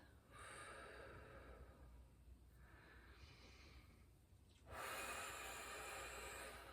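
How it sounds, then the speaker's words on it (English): Soft, restricted Ujjayi yoga breathing, a hushed airy hiss drawn through a narrowed throat, with three long breaths close to the ear, the last one louder and fuller, and no speech. "Nice soft restriction on the inhale is Ujjayi."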